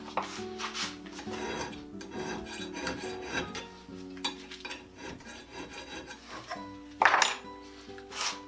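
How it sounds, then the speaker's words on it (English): Hand files rasping along an auger bit held in a sharpening fixture, a steady run of metallic strokes at close range, fairly loud and continuous with a sharper, brighter scrape near the end. "get out the fixture, get out the files, and sharpen the auger bit"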